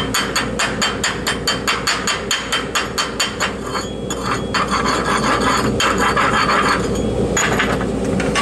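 A hammer chips slag off a dual-shield flux-core wire weld in rapid, regular metallic raps, close and loud, which then blur into a denser scraping clatter toward the end, with no voices.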